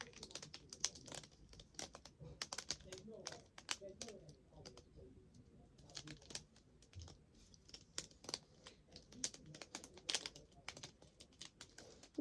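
Fidget toys clicking away in dense, rapid, irregular clusters like keyboard typing, steady for several seconds at low volume, with soft background talk mixed in.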